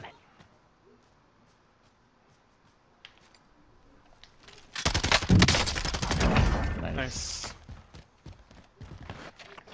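Gunfire in Call of Duty Warzone in Verdansk: after a quiet stretch with soft footsteps, a loud, close burst of rapid automatic shots erupts and rattles on for a few seconds, with players talking around it.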